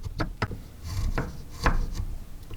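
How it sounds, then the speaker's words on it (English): A blade carves a small cedar wood fishing lure body, giving close, irregular scraping and shaving strokes with sharp little cuts between, alone without talk. "I think what I'm gonna do is carve this entire lure body out"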